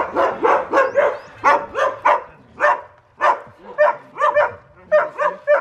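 A friendly neighborhood dog barks repeatedly in a steady series of close, loud yips and woofs, with short pauses between bursts and no talk over it.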